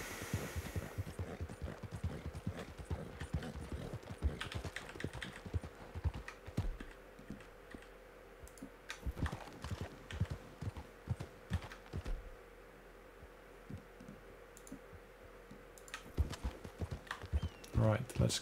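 Horse hooves clip-clop in Red Dead Redemption 2, an irregular run of close hoofbeats with some sharp clicks over a faint hum, continuing through the whole stretch.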